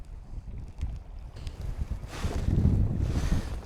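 Wind gusting over the sea off Whitley Bay, UK, during a kayak fishing trip: low rumbling buffeting that swells into a louder, steady breathy roar over the second half, with no talking.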